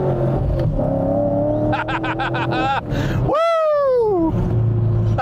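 An old, cheap car revs its engine hard while driving off-road, the loud engine note climbing and falling in quick bursts, with a man whooping over it.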